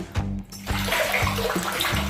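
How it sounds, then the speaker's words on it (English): Water gushes into a bucket in a steady, close, rushing stream that lasts about two seconds, with a low hum running underneath. "We're filling up a water bucket."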